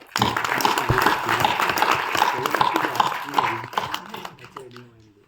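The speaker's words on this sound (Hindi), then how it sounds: "हम सब लेह के निवासियों के लिए एक बार ताली बजाते हैं।" An audience in Leh applauds the town's residents, a sustained burst of clapping with voices mixed in that fades out near the end as a voice begins speaking.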